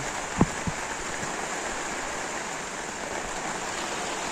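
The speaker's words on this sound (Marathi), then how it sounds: "पाणी बघा कसा पडता." Rain pours down outside in a village during the first monsoon shower, a steady continuous wash of noise with a couple of brief low knocks near the start.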